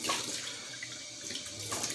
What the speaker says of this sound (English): Okay, cold water.